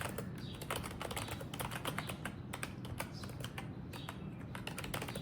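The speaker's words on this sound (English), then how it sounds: "I am trying to type as fast as I can" Fast typing on a computer keyboard during an online Human Benchmark typing test game: a rapid, steady stream of close, crisp keystrokes that runs the whole time with no one talking.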